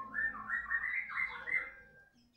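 A caged bird kept under a bright blue cage cover gives a quick run of warbling, whistled notes, close and moderately loud, easing off near the end with no voices.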